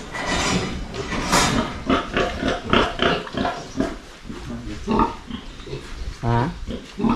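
Farm pigs grunt in repeated bursts, close and fairly loud, with a deeper drawn-out grunt near the end; people talk in the background.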